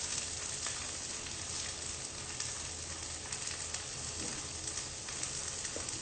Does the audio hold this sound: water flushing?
no